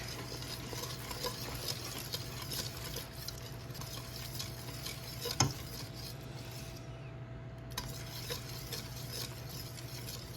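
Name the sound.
stirring cheddar cheese into pasta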